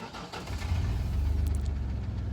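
A car engine cranks and catches, settling into a steady, close low rumble that holds loud and even after the start, with no talking over it.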